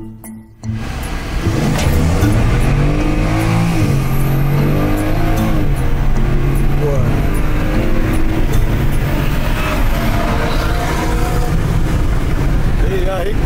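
A modified sleeper Ford F150 pickup and an Audi RS3 on a street roll race in Mexico, engines roaring loud and sustained as they pull hard through the gears, with voices faintly audible.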